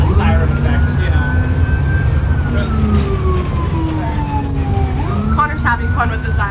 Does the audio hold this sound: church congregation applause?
no